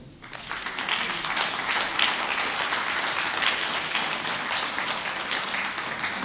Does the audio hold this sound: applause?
yes